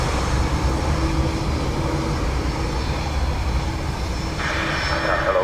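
An aircraft takes off from a runway at Dublin Airport in windy, wet weather, its jet engine roar loud and continuous under a broad rushing noise.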